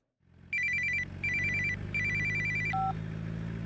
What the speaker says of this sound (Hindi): ए सुन, तेरे लिए फोन है।